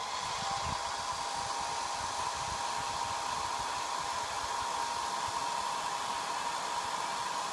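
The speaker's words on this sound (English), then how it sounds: "So I'm using this hand blower, and let's see." A hand-held hot-air blower heating an RF power transistor gives a constant, steady whoosh of fan and airflow noise, fairly quiet and unbroken throughout.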